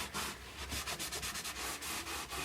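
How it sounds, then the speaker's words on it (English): A cloth buffs wax into a wooden gift tote made from up-cycled pallets, making close, steady back-and-forth rubbing strokes in a quick, even rhythm with no talking. "I'm just buffing it, rubbing it with this nice cloth"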